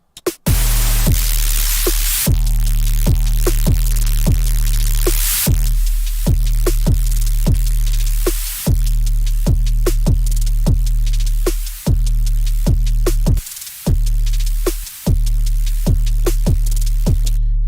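Bursts of hissing white noise from a synthesizer in FL Studio 20 repeat in a steady rhythm over a deep, droning synth pulse, loud and close.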